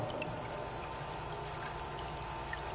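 Water flows and pours steadily into a baptismal font, a soft, continuous trickling splash heard alone at low volume.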